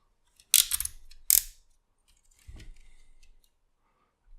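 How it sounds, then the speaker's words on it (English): Ratchet joints on a MakeToys Cross Dimension Buster Stealthwing figure clicking in two quick bright bursts, then a softer third ratcheting rattle, close and otherwise quiet. "a ratchet thigh swivel, double jointed knees also ratcheted"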